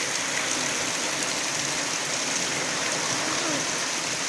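Floodwater rushes past a house's foundation posts by a river in a loud, continuous broadband roar that holds steady throughout, with no pauses or voices.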